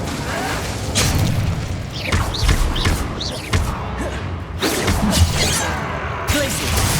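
A fire spell cast in the Hogwarts Legacy video game, a booming whoosh and crash amid a busy run of loud spell blasts and impacts, with a voice calling out over the action.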